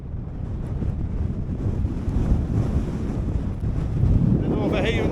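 Strong gusting wind on the exposed fell top of High Snockrigg buffets the microphone with a continuous roar that rises and falls, growing rougher toward the end.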